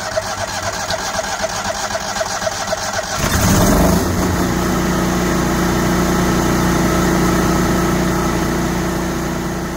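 A new Kohler standby generator cranks and catches about three seconds in, then settles into a loud, steady running drone that continues alone to the end.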